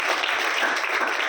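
An audience at a product talk claps in loud, steady applause, dense and continuous throughout.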